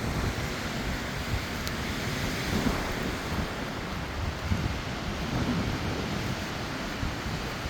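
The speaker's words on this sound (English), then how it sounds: "It's pretty windy today." Steady broadband wind rushing and buffeting the microphone at a trailhead parking area, with a constant low roar and no talking.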